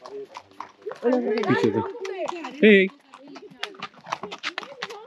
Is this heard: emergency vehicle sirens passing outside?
no